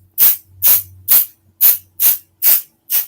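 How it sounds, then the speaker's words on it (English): Seven short, bright hissing spritzes of spray adhesive from an aerosol can onto quilt batting, evenly spaced and close, with a faint low hum between bursts. "And I typically spray my batting."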